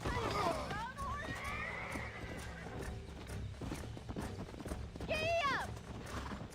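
A horse neighs and whinnies with rapid hoofbeats in the game Red Dead Redemption, loud and close, the whinnies rising twice over steady galloping clatter and a voice.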